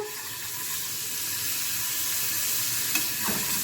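Garlic frying in a couple of spoonfuls of oil to make the tasha topping for molokhia, a steady close sizzle and crackle running throughout with a faint scrape of stirring near the end.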